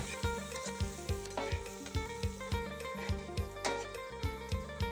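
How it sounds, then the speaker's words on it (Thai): Chopped lemongrass and shallots are tossed and roasted in an oiled pan for duck larb, giving a steady sizzle with repeated scraping, stirring strokes close by and no talking. "ตั้งกระทะเทน้ำมันแล้วเอาทุกอย่างไปคั่วแบบนี้ครับ"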